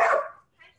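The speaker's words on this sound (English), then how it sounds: "wild dogs out here." A wild dog gives a single sharp bark outdoors, followed by a faint, shorter echo-like yelp that fades quickly into silence.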